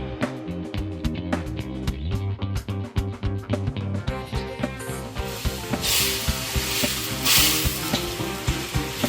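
Broth spooned into a pan of vegetable risotto, setting off a loud, steady sizzle with scraping and stirring strokes, and a burst of hissing steam toward the end.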